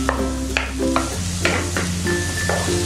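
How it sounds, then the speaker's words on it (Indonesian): Onion, garlic and sausage sautéing in margarine in a pan, a steady close sizzle with spatula stirring scrapes and light clinks against the pan throughout. "Ini kita tumis sampai wangi."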